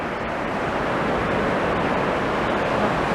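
Sea waves wash onto the shore on a calm, bright day, a loud, continuous broadband rush heard up close with no clear gaps between breakers.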